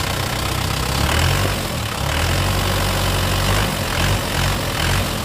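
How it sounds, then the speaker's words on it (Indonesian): A 2011 Isuzu Panther LM Smart Turbo diesel engine runs loud and close, with a constant low rumbling clatter and slight swells in intensity under the throttle, heard alone without talking. "Untuk mesinnya kita coba gas."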